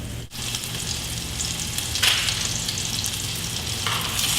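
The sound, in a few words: food frying in oil in a pan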